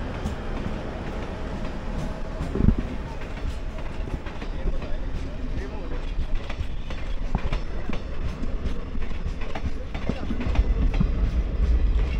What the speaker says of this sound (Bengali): দেখো চা বাগানের মধ্যে দিয়ে ট্রেনটা কি অপূর্ব সুন্দর লাগছে